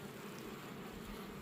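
Honey bees buzzing around hives in a bee yard, a faint continuous hum with no voices.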